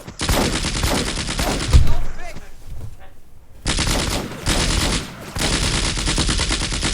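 Gunfire from the Combat Mission: Afrika Korps war game, with long, loud sustained bursts of machine-gun fire broken by a short lull, close and dense throughout.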